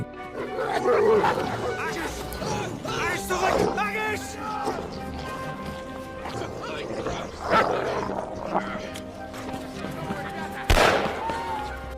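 Hunting dogs bark and snarl amid chaotic noise and shouting voices as they attack a prison guard, with a sharp loud gunshot near the end.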